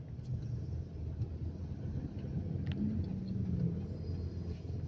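Steady low engine rumble and road noise from inside a car crawling through heavy morning traffic in Cagayan de Oro, with a faint passing tone partway through; no one speaks.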